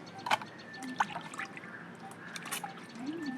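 Water splashes and trickles as fish is rinsed by hand with salt, with soft drips and sloshing close by.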